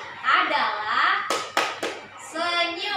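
A classroom of students claps hands together in an ice-breaking clap game, a few sharp bursts of group clapping standing out amid lively children's chatter and talk.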